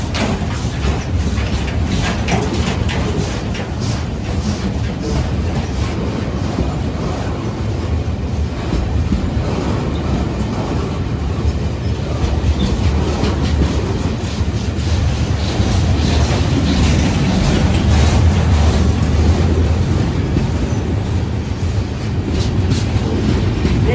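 Pakistani 37UP Fareed Express passenger train, hauled by several locomotives pushing many coaches, running at night with a steady loud broadband rumble and rushing clatter throughout, no talk.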